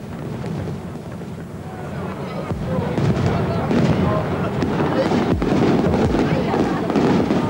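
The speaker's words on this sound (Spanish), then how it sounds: "Madeira tiene fuegos artificiales que comienzan con las badaladas de la medianoche." New Year's Eve fireworks over Madeira at midnight, with booms and crackles rolling continuously through a dense, distant wash of noise and a few sharper thumps standing out.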